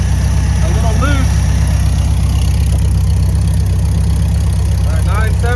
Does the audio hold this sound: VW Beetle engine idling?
yes